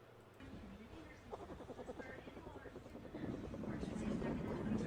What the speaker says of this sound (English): Did you guys know that bear cubs purr like kittens?